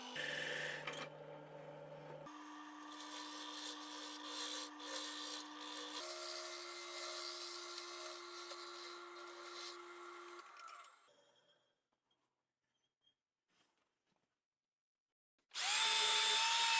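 A wood lathe hollows out a wooden bowl: a steady whirring drone with a sustained hum and scraping tool noise for about eleven seconds. It stops and near-silence follows, then a loud burst of turning resumes at the very end.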